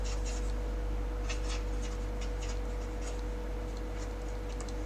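Writing out a calculation during a capital budgeting class, with rhythmic scratchy strokes of writing on a surface repeating over a steady low electrical hum and background hiss, no speech.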